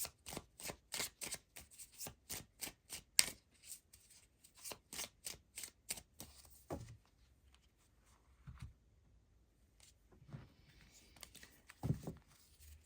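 Tarot cards being shuffled by hand, close up: a quick run of crisp riffling bursts for about six seconds, then a few softer, scattered rustles and taps as cards are drawn and laid down.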